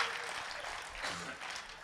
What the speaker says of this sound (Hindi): तालियां मिलकर बजाइए, बढ़िया वाली